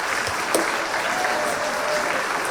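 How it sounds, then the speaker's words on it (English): Applause from a standing audience at a Mardi Gras gala, a thick, even roar of clapping filling a large room, brief and unbroken. "So if you've ever come to any gala, please just stand up so we can give you a round of applause for being part of our family."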